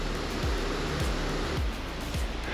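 Marguerite Falls in Rocky Mountain National Park, a series of smaller cascades, pours as a loud, continuous roar of rushing water close by, with some low thumps beneath it.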